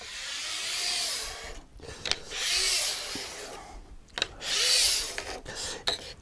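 A Panzer file scrapes along a ski's sidewall in close, rasping strokes during ski tuning. About three long passes come through clearly, with short pauses between them and no talking.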